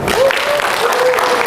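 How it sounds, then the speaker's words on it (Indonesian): A seminar audience claps, a steady wash of applause held at an even level, with a voice sounding through it. "Tepuk tangan dong."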